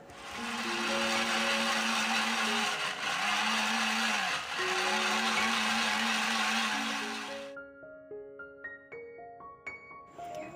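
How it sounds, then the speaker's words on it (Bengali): Mixer grinder blending spices and tomato into a paste, a loud steady motor whine with a dip and restart midway, then winding down with descending tones and light rattles. "অবশেষে একখানি টমেটো দিয়ে তারপরে চলুন মিক্সিতে ভালো করে পেস্ট করে নিই।"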